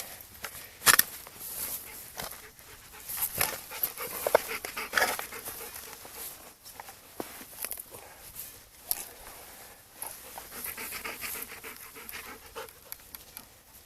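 A dog pants in quick, breathy bursts close by outdoors on stony ground, with scattered footsteps and soft scuffs mixed in, during a metal-detecting outing.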